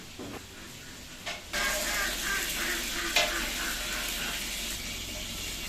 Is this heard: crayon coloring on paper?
no